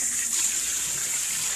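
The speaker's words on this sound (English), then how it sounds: "So I'm just putting water in here." Water pouring steadily into the tub of a microbubble machine used for dog bathing, a close, even hiss and gush with no talking.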